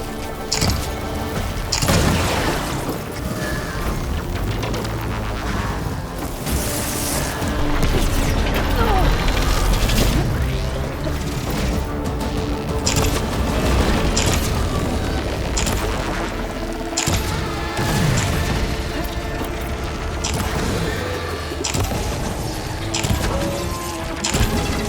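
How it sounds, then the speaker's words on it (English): Explosive booms and crashing bursts from a Horizon Forbidden West battle, loud and dense throughout, mixed with mechanical clanks and scattered impacts over continuous game noise. "It's gonna explode any second."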